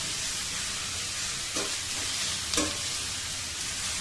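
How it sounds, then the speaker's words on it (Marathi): Onions sautéing in a pan for a homemade paneer biryani, giving a steady, close, loud sizzle broken by two quick scraping stirs of a spoon. No one speaks. "कांदा चांगला असा परतून घ्यायचा वर खाली करून."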